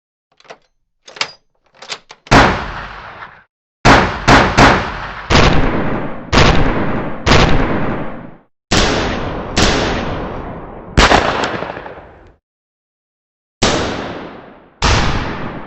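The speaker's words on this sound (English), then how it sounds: "Now there are some gun options, so like I'm going to press them in a minute here." Gun sound effects from a stop-motion software sound palette, played one after another: about a dozen sharp, loud gunshot-like bursts, a few short quiet pops first, then heavier blasts each decaying for roughly a second, with no talk.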